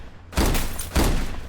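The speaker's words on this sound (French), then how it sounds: "je vous montre les coups de feu" Two sharp gunshot effects for a film in post-production, evenly spaced and loud, each a broad crack that fades into a short noisy tail, with nothing else heard.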